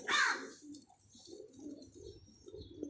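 Soft, low cooing calls repeat in a steady rhythm after a brief rustle at the start, close by and moderately loud.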